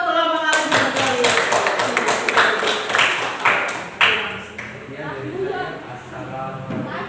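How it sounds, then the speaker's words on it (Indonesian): A class applauds a group in a classroom, with a burst of many hands clapping close by for several seconds that tapers off, while voices talk over it. "tepuk tangan untuk kelompok kalian sekalian."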